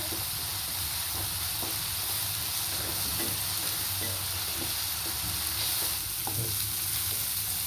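Coarse-ground green chilli, garlic and coriander paste with a few curry leaves roasting in hot oil in a pan, giving a steady close sizzle and frying hiss throughout, broken by occasional light scrapes and stirring taps, with no talking.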